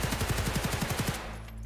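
Rapid automatic gunfire from the video game Escape from Tarkov, a dozen or so close, loud shots in a steady burst lasting about a second, then a low lingering rumble tail with no talk.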